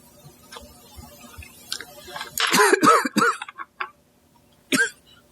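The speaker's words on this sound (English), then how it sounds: "I'm going to stop while I have a coughing fit." A person's coughing fit during a makeup tutorial, several harsh bursts of coughing and throat clearing close to the microphone, scattered between quiet pauses.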